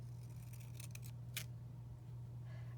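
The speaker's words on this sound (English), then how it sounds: "Pinking it means I'm cutting it with these scissors that are called pinking shears" Pinking shears snipping fabric for a junk journal, a few quick crisp cuts in a short cluster followed by one sharper snip, fairly faint over a steady low hum.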